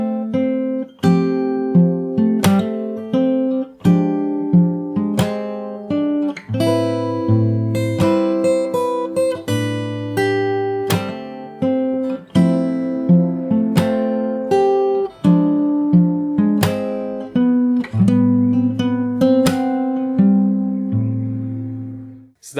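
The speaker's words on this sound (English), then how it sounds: "So I'll play the whole thing once from the start till this point," Solo fingerstyle guitar plays a song slowly from the start, with a steady flow of plucked melody notes over ringing bass strings and no voice.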